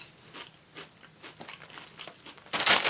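Lay's potato chips crunching close up in a series of short, crisp bites and chews, ending in a louder burst of crinkling from the chip bag.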